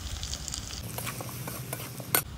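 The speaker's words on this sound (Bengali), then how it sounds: "হালকা একটু জল দিয়ে কষিয়ে নিচ্ছি এখানে।" Ground spices, salt and ginger paste sautéing in a pan with a little water, soft bubbling sizzle with a few sharp stirring scrapes and clicks, close but fairly quiet.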